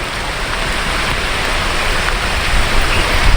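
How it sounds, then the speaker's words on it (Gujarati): Steady rain falling outdoors at a village-edge spot after more than a day of continuous downpour, a dense even hiss that swells slightly louder toward the end, with no voices. "24 કલાકથી વધારે પણ વરસાદ ચાલુ છે"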